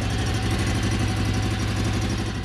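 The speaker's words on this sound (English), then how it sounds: "The uForce 1000 engine sounds more like a motorbike engine." A uForce 1000 UTV engine idles steadily with a dense, even low rumble and no change in pace. It is loud and close throughout and carries no talking.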